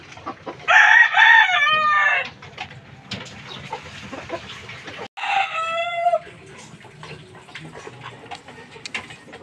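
A young gamecock rooster (stag) crowing twice at close range, each crow loud and drawn out, with quieter clucking and yard noise between them.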